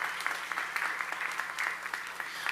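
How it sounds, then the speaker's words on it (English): Applause from an outdoor Fourth of July concert crowd in San Angelo, a steady dense patter of many hands clapping at moderate distance, without voices over it. "So let's give them a round of support and applause for doing what they did"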